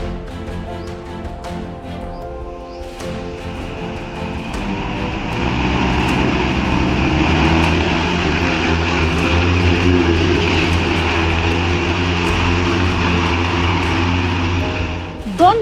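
A student-built 50 horsepower drone roars steadily with a loud propeller engine drone, building up and holding a sustained, strong buzzing tone throughout.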